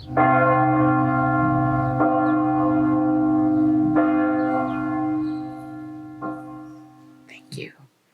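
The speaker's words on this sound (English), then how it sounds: "Kate, I'd like to cue the tolling of the Lowell House Mother Earth bell. 3 tolls to begin our time together this morning" Three deep, resonant tolls of the Lowell House Mother Earth bell ring out in a quiet morning setting for a reunion memorial service, evenly spaced about two seconds apart, each leaving a long humming decay that fades near the end.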